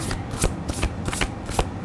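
Tarot cards riffled by hand in several quick close bursts, each a papery flutter, with short pauses between shuffles and no talking.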